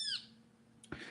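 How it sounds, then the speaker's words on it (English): A pet bird gives one short, high squawk at the start, close but quiet, followed by a brief knock or rustle. "Fucking bird always making noise, little bastard."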